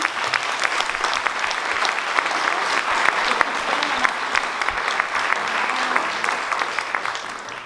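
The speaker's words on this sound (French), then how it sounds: "On l'applaudit." An indoor audience at a tribute event claps warmly and steadily for an honoree, a dense sustained round of applause with faint voices underneath that fades slightly at the end.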